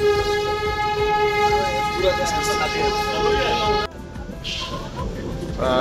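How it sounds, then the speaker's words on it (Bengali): The Darjeeling toy train, India's highest narrow-gauge mountain railway, runs close by with a steady rumble and a long sustained horn blast that cuts off abruptly, followed by continued rolling noise and faint background activity. "এই টয় ট্রেন পুরো দার্জিলিংয়ের অলিতে গলিতে ঘুরতে থাকে।"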